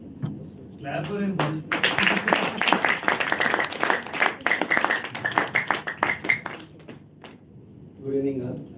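An audience at a JCI public speaking training session claps steadily for several seconds, a dense patter of many hands, with brief speech before and after the applause.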